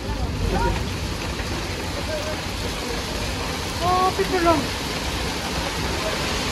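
Dense, steady pattering of hail hits surfaces all around in Mexico, with people exclaiming briefly in the middle.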